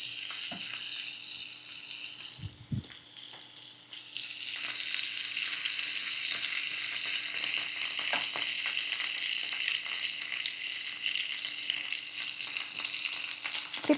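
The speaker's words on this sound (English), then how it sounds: "Hear that sizzle?" A steady, bright sizzle of butter melting onto hot roasting Hasselback potatoes fills the whole stretch, with a few soft clinks and thumps near the start.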